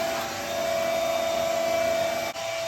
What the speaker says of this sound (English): we're gonna just give them a quick vacuum